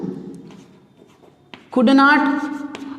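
Marker or chalk writing on a board during an English class, heard as a short burst of squeaky scraping strokes after a stretch of quiet talking.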